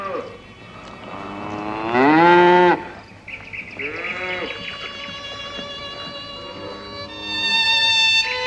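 Cattle on a large collective farm moo loudly and close by, one long drawn-out low call followed by further lowing and a rising bellow near the end, with no speech.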